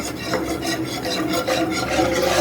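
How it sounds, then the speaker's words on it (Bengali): A hand whisk stirring custard powder into milk, with a steady scraping, rasping swish that repeats rhythmically against the bowl, close and continuous without talk. "এখন আমি কাস্টার্ড পাউডারটা দিয়ে দিব আর একটা হ্যান্ড উইচ দিয়ে নাড়তে থাকবো, যাতে দলা পেকে না যায়"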